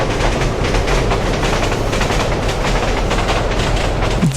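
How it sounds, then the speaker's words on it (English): Commuter train rolling along in the Soviet-era city-building game Workers & Resources: Soviet Republic: a steady, loud rumble with continuous clickety-clack of wheels over rail joints, alone with no voices. "Let's see the train navigate through it here."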